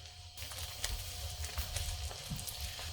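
Blueberry jam bubbles at a rolling boil in a pot on the stove, giving a steady, quiet patter of popping bubbles and faint sizzling throughout with no talking.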